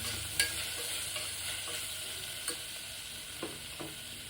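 Beef masala fries in a pan as turmeric and chilli powder are stirred in, a steady soft sizzle broken by occasional scraping clicks of the spoon, with no talk.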